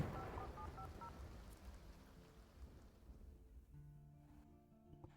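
A short run of telephone keypad tones beeps at the start of a call to a plumber, quiet and close, followed by soft hissing background noise and a few faint tonal blips.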